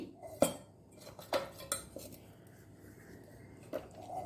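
A utensil stirs masala churumuri, a spiced puffed-rice snack, producing a few sharp, close metallic clinks against the bowl, spaced irregularly over a soft, faint rustle.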